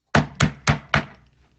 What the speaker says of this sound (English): And they hear a big knock at the door.